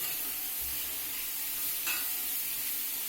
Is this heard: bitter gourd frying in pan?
yes